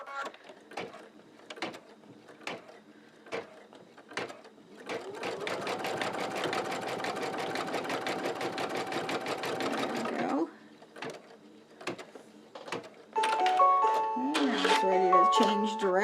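An embroidery machine stitches a chenille shamrock, its needle running in a fast, steady buzzing burst after scattered clicks and taps, then stopping. A beeping electronic tone sequence follows at the end.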